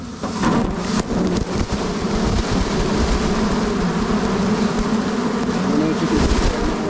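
A loud, dense swarm of honey bees buzzing at a hive during a package install, a continuous close roar with rustling and knocks throughout.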